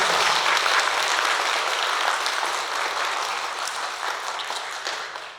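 An audience at the 75th-birthday jubilee evening for poet Gulnazi Kharaishvili at the Rustaveli Theatre claps together in dense, sustained applause that stays loud and even, then begins to fade at the end.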